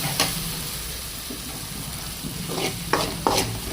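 Tomato egg curry is stirred in a pan over high heat: a steady frying sizzle runs throughout, broken by scraping strokes of the spoon that grow sharper toward the end.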